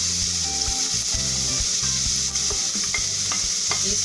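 Onion and garlic sizzle and fry in a pan for sarapatel, a steady close hiss broken by repeated stirring scrapes of a utensil against the pan, with no talking.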